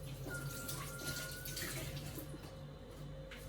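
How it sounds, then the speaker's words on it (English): Running water from a tap wets hands before handling bread dough in a home kitchen, a steady close hiss and splash lasting throughout with no talk. "So I'll just wet my hands."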